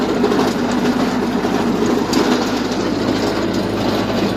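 A Lovol 354e tractor hauling a Wirax potato digger through a field, a steady droning engine with a continuous mechanical rattle from the implement, constant and close throughout.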